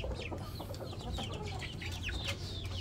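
Chickens in an overcrowded cage on a small poultry farm, several birds clucking and cheeping in quick overlapping calls over a low steady background hum, close by and fairly faint.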